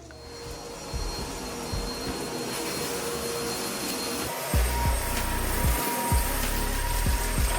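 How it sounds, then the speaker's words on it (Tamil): A vacuum cleaner drones steadily in a home, a continuous mid-loud whir with a few low thumps and bumps as it is pushed across the floor, no talking. "வேக்யூம் போட ஸ்டார்ட் பண்ணிட்டேன்"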